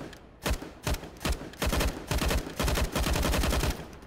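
Rapid gunfire from the video game CS:GO: several short bursts of automatic shots in quick succession, loud and close, growing into longer strings of fire with no talk.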